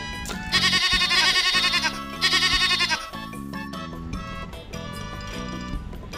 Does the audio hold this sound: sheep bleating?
yes